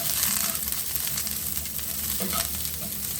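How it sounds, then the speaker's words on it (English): Cauliflower searing in a hot pan for khatti dhal, a steady close sizzle and crackle with occasional stirring scrapes, continuous throughout with no talking. "you can see some of the cauliflower starting to sear a little bit"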